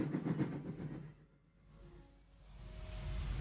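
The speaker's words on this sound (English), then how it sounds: "Then they take a train to Italy" A train running, a steady rumbling roll with a rhythmic clatter that dips quieter in the middle and then swells back.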